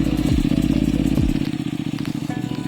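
Honda NC750X with its DCT gearbox pulls hard at full throttle on a rough mountain track, a loud, close parallel-twin engine note with throbbing pulses and clattering, rising in pitch as the revs climb.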